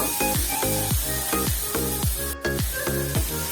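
Chicken and tomato sizzle in a hot pan while being stirred, a steady loud hiss broken by regular scraping strokes, roughly every half second.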